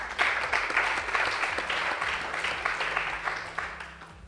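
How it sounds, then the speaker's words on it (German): Sustained applause from a gala audience, many hands clapping steadily at moderate volume for several seconds, fading slightly toward the end. "Applaus"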